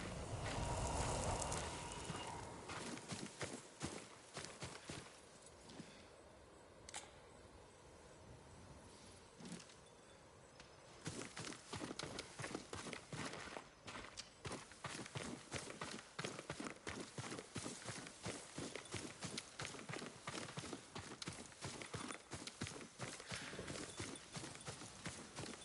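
Horse hooves clip-clop in Ghost of Tsushima, a brisk, steady run of sharp, close hoofbeats that briefly eases to a slower walk and then picks back up to a fast, even gallop.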